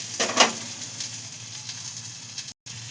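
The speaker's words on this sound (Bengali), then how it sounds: "এবার এতে দিয়ে দিচ্ছি আমার টমেটো কুচনো" Chopped tomatoes hit a hot frying pan and start a loud, steady sizzle, with a few soft stirring clatters on top and no talking.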